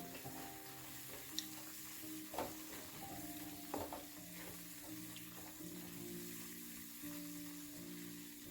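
Tomato and coriander chutney cooking in a pan, with a soft low sizzle and occasional scraping stirs, quiet and close, no voices.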